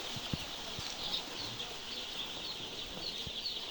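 A crowd of about 3,200 young layer chicks cheeps constantly, with high, thin peeps overlapping in a busy chorus and a few soft bumps underneath.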